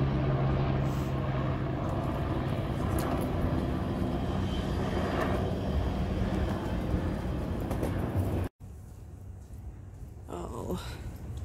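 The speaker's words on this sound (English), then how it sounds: "Nice helicopter. Typical New York. There's usually one buzzing around somewhere." A helicopter drones overhead in New York along the Hudson, a steady engine and rotor rumble heard outdoors at moderate distance, briefly cut off before resuming slightly louder.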